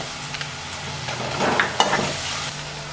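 Chopped onion and green chili with salt sauté in oil for rava kuzhi paniyaram. A continuous close sizzle rises with a few stirring scrapes, and no one speaks.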